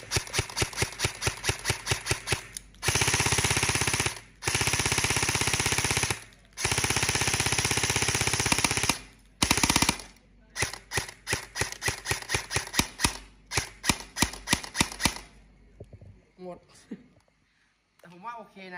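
A Double Bell M4 airsoft rifle, model 062, fires long rapid full-auto bursts outdoors, loud and close, separated by brief pauses, then shorter choppy bursts and single clicks near the end.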